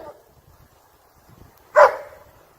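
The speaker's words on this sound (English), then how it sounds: "The pup's excited barks might be a bit much for the deer." A single excited bark or yelp from a dog facing a deer, sharp and fairly close, rising abruptly out of near-quiet with faint low rustling before it and a short fading tail after.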